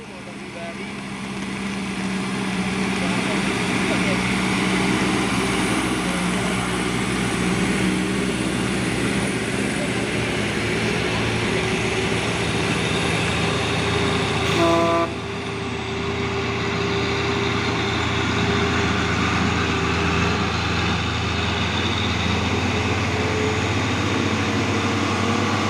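A convoy of palm oil trucks passes in heavy rain at Bukit Kodok, a steady loud engine rumble and road hiss, heard from inside a bus cabin, continuous throughout with no clear break.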